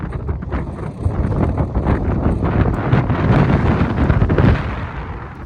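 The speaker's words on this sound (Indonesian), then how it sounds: "Angin semakin kencang." Strong wind buffets the microphone on a high mountain trail along the Tour du Mont Blanc near the France–Italy border, a loud continuous rumbling roar that swells and surges.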